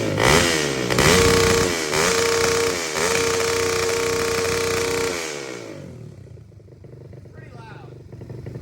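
A pit bike running a straight BBR exhaust with no quiet insert revs loud and close in repeated rising bursts, then cuts off after about five seconds, leaving faint background noise.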